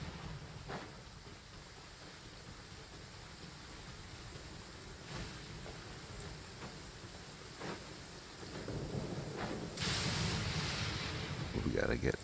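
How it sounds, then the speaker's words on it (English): Thunderstorm in the video game Genshin Impact: steady rain hiss with several thunder cracks and rumbles, swelling louder toward the end, heard alone. "Lightning is smacking."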